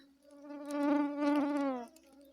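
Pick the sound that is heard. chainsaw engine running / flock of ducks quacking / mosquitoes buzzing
mosquitoes buzzing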